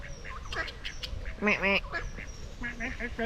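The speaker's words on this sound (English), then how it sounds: "we've got ducks. Some more coming" Several ducks quack nearby in short, raspy bursts that overlap outdoors, with people talking in the background.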